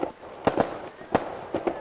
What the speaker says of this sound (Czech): Hele, ohňostroj.